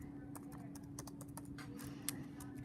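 Rapid clicking of a computer keyboard as a search is typed into a browser tab, a steady run of close keystrokes over a low electrical hum, no voices.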